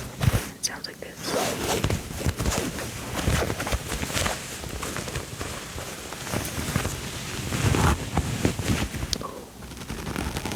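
Shiny button-down shirt fabric, not quite silk or satin, rustles close up in soft, continuous crinkly swishes with a few sharper crackles, under low whispering.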